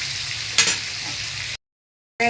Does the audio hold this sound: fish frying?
yes